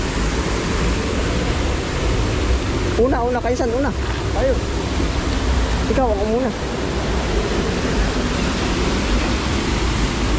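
Powerful flowing water roars continuously up close, like a stream or small waterfall outdoors, while people call out and talk briefly over it in two short bursts.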